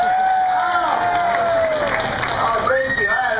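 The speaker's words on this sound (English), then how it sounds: "The crowd goes wild." A crowd at an alligator wrestling show at Gatorland cheers and shouts loudly, with high excited voices rising and falling over a dense wash of noise.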